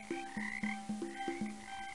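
A frog croaks close by in a quick rhythmic series of about eight short, tonal calls, alternating slightly in pitch, with no other sounds.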